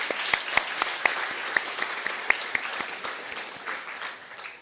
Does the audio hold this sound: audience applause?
yes